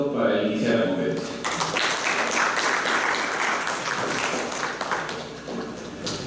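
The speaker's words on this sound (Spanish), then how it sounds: "un fuerte aplauso para iniciar la conferencia" Audience at a Congress of the Republic public policy course applauds before a lecture, a broad wash of clapping that swells after the first second and holds steady, with some voices mixed in.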